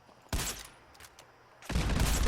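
Two loud, sharp gunshots from a modded CS-LR4 sniper rifle in Fallout 4, each a broadband crack with a heavy low boom, separated by about a second of quieter ambience. No one speaks.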